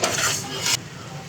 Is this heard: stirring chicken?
yes